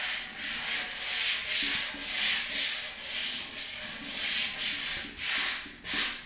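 A sanding block rubs over sprayed primer on a mirror, giving steady, rhythmic back-and-forth strokes of close, raspy scraping with no voices.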